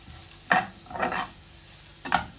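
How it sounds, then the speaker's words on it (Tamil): Cabbage and onion stir-fried in a pan, a spatula scraping and tossing in three short strokes over a faint sizzle, close by with no talk. "இந்த கோவாவும் நல்லா அவியக்கூடாது, இந்த ஒரு கடிபடுற பதம் வரும் வரைக்கும் ஒரு 2 கிளறினா போதும்."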